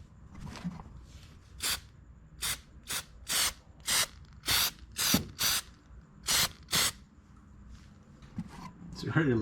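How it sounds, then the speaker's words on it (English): Plasti Dip sprayed from a $6 aerosol can onto a masked BMW E46 M3 headlight, heard as about nine short, even hissing bursts in a steady rhythm, close and loud, over a quiet background. "So now, I'm just gonna start spraying it."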